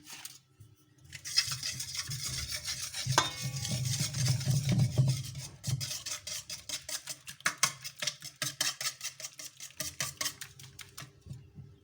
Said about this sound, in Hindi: अब इसमें हम बाकी के इंग्रेडिएंट्स डालेंगे और इसको बीट कर लेंगे